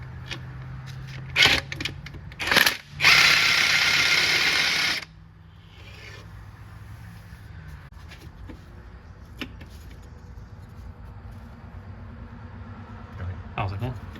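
A hand ratchet loosens the 13mm nut securing the fuel lines on a Chevy Silverado during transmission removal, with quick clicking bursts and a longer loud rattling spell up close, then quieter mechanical noise.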